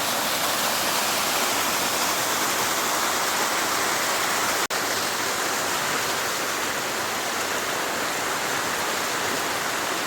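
Small town waterfall in Rakhiv with a few metres of straight drop, a loud, dense, continuous roar of falling water heard up close without pause.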